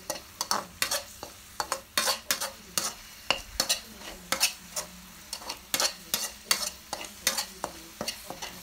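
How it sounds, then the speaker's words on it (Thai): A spatula stirring a southern Thai curry paste stir-fry seasoned with oyster sauce, soy sauce and sugar, with regular scraping strokes against the pan over a soft sizzle. "แล้วก็คนนะคะให้ส่วนผสมทุกอย่างเข้ากันค่ะ"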